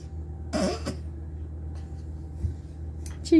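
A baby girl gives a short burst of soft coughs, close and fairly quiet, followed by a faint second cough and then a quiet room.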